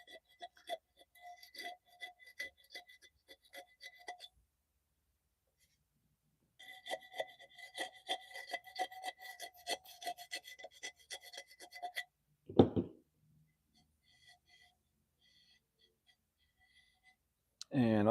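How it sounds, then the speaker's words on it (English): A scraper drags across glaze on a ceramic cookie jar in bursts of dry, raspy scratching, a first stretch then a longer, denser run after a pause, close and moderately loud, with a short low thump near the end. "Just scrape that right out of the corner."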